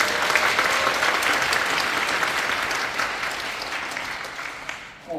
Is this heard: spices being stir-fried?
no